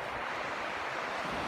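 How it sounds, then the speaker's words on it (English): Sea waves wash onto a beach, a steady broadband rush of surf with some wind, continuous and alone. "just hear the noise of the sea."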